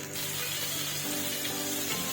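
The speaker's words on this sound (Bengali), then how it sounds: "ওই কড়াতেই অল্প তেল দিয়ে আমরা চিংড়ি মাছটাকে ভেজে নেব।" Prawns frying in a little oil in a wok, a steady close sizzle and hiss that runs evenly through the whole stretch with no voices.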